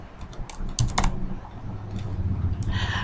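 Keys clatter on a computer keyboard as a search is typed, a short close run of quick taps followed by a brief pause and a few more presses, with no voices.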